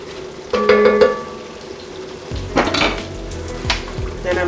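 A spoon stirs efo riro, a Nigerian vegetable stew, in a metal pot, giving close, loud clanks and scrapes at an uneven rhythm, with a bright ringing knock near the start and a soft simmer underneath.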